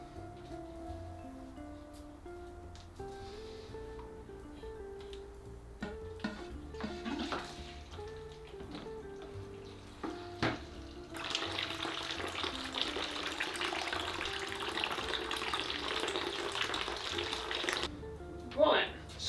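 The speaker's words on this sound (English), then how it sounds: "start siphoning out" Water siphoned out of a glass vivarium tank during a gargoyle gecko bioactive build, a steady rushing, gurgling flow that begins partway through after some handling clatter and continues to near the end.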